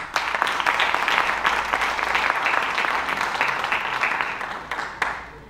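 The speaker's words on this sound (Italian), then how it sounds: "Con un applauso" An audience at a poetry event in Lamezia Terme applauds steadily, dense close clapping holding for several seconds before thinning out at the end.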